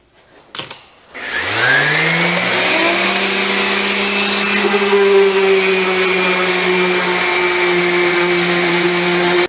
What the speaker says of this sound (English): Let me do the sanding, sand over these box joints